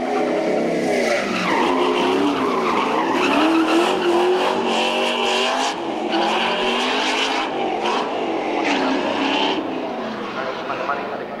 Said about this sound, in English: Conrad Scott's V8 powered Batwing Mazda RX-7 was not only a crowd pleaser, but a class winner.